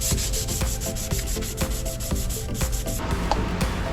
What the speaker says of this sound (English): rough these up with some 600 grit because I don't wanna go too deep into the carbon